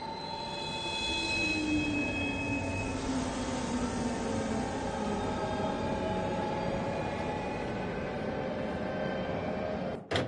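A train rolls along in the Final Fantasy XV video game, a steady rumbling clatter with faint tonal whines that holds for about ten seconds before cutting off abruptly at the end, with no voices.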